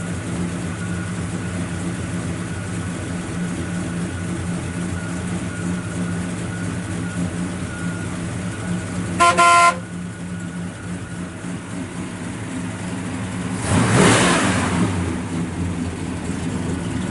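A 1968 Chevrolet Chevelle SS 396 V8 with a performance cam idles steadily with a low, rumbling exhaust note, briefly revving twice before settling back to a smooth idle.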